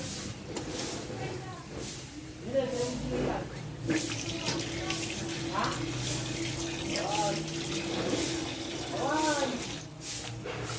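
Water runs from a tap in a steady, moderately loud stream over several seconds, with voices talking over it throughout.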